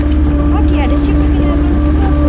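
A boat's engine idles with a steady, loud, low hum before departing on a sea trip off Trincomalee, Sri Lanka, with voices briefly heard over it.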